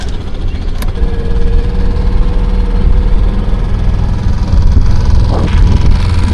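A sailboat's auxiliary engine motors down a channel near Long Beach, a continuous loud low-pitched drone with steady vibration, heard close up and unbroken for the whole stretch.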